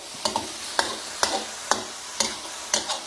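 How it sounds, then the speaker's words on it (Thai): Chicken stir-frying with garlic and chili in a hot pan, a steady sizzle punctuated by regular, fairly loud scrapes of the spatula about every half second. "ผัดให้เข้ากันเลยครับ"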